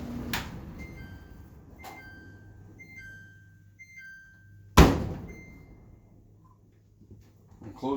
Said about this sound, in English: We're going to open up the door.